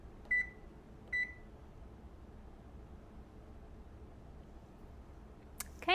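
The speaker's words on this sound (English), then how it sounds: "And I'm going to set my timer for 35 minutes." An oven timer being set gives two short, clear electronic beeps a second apart, then a quiet hum of room noise, ending with a brief burst of further beeps.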